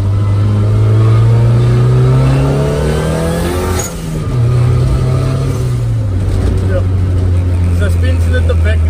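A Nissan 1400 bakkie pickup, turbocharged on a stock engine, revs loudly nearby, its pitch rising and falling in a couple of throaty surges, with voices talking over it.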